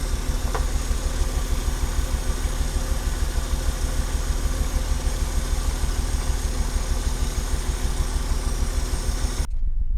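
Engine of a Ford Bullnose pickup with a manual gearbox, running rough as if a spark plug were fouled, a loud steady low throb at idle that continues alone throughout.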